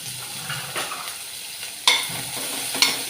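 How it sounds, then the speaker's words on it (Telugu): Dry red chillies, ginger and garlic sizzle in hot oil while a spoon stirs and scrapes the pan, with two sharp metallic clinks against the rim. "ఇవి బ్రౌన్ కలర్ వచ్చినంత వరకు వేయించుకోవాలి"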